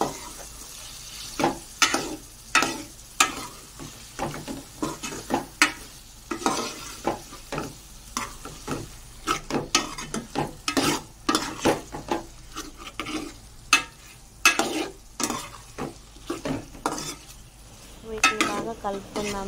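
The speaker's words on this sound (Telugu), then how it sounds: "ఇలా పీసెస్ అన్నీ యాడ్ అందులో వేసుకొని ఒకసారి తిప్పుకుందాం." Spoon stirring cut taro root pieces in oil in a frying pan: irregular close scrapes and clanks over a faint sizzle, repeated throughout with no talking.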